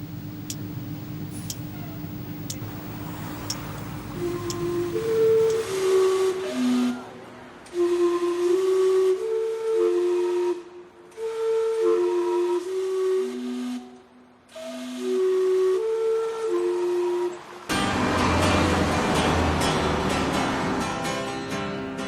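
A Vancouver steam clock whistle plays a short melodic tune of sustained pitched tones, ringing out clearly over a steady background hiss and street ambience, then fades into noise.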